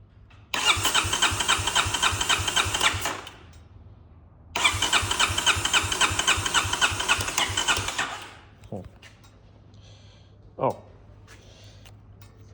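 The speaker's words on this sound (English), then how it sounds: "We're gonna try and crank this over." A 2018 Kawasaki KLX 250 dirt bike found in a garage and hooked to a jump pack cranks over twice, each time with a loud, rapid rhythmic churning starter sound lasting several seconds, followed by a few brief clicks and a short squeak.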